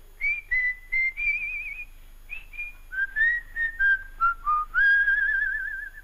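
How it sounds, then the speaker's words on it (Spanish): Someone whistles a short, lilting tune of clear notes and little slides, close and alone, over a faint low hum. "tenemos grabada en cinta magnética el famoso chiflidito"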